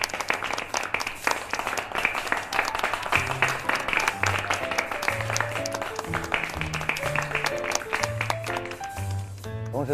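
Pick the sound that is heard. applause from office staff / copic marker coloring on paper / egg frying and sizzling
applause from office staff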